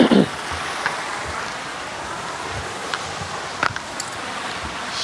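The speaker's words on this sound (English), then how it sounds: "it hit different when it's raining" Steady rain falls outdoors, a dense continuous hiss of drops hitting surfaces with a few sharper patters, while people talk now and then.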